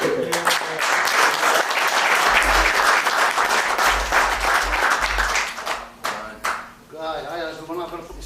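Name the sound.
audience applause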